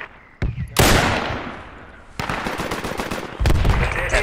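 Gunfire in the military shooter game Project Reality during a radio relay defence: several sharp, loud shots and short bursts crack out irregularly, each followed by a rumbling tail.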